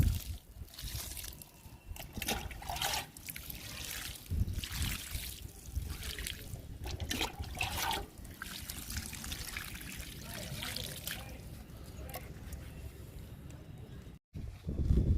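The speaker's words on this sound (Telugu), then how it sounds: "విత్తనాలకి వాటర్ ఇచ్చేద్దాము" Water trickles and splashes onto garden soil over freshly sown seeds in uneven bursts, a close pouring and dribbling sound that rises and falls before briefly cutting out near the end.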